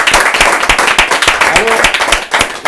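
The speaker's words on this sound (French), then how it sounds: "on salue l'arrivée de Laurent Caillot, on peut l'applaudir quand même." A television studio audience claps in a steady, rhythmic beat to welcome Laurent Caillot, loud and close, with voices heard over the clapping.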